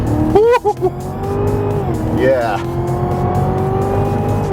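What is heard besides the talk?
2017 Cadillac CTS-V accelerating hard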